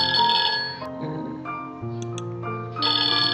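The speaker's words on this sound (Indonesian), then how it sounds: "contoh lagi adalah bel listrik" An electric bell rings continuously for a few seconds, close and loud, its bright tone shifting in pitch through a short repeating pattern with no voices.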